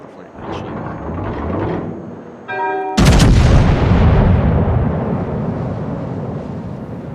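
Hyuga battleship main guns fire in World of Warships: a deep, booming salvo bursts out loudly and rumbles on for several seconds, preceded by quieter game sounds and a brief rising tone.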